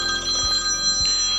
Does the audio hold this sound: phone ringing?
yes